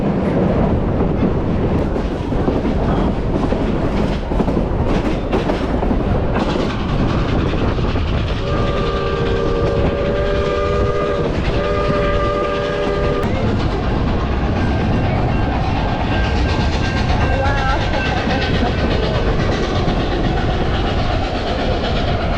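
The Durango Silverton railroad train rolls along its tracks in a loud, continuous rumble with rhythmic wheel clatter, and a sustained whistle blast sounds midway through.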